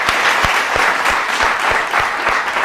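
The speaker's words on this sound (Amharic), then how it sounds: "እነሱ እሱን አይተው እንዲበረቱ አጨብጭቡለትን።" An audience at an Ethiopian TV show applauds a young man with steady, dense clapping that holds at full strength, punctuated by soft low thumps.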